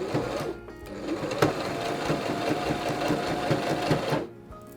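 A sewing machine stitches fabric bunting onto tape in a steady, continuous whirring run lasting several seconds, close and clear, before stopping abruptly near the end.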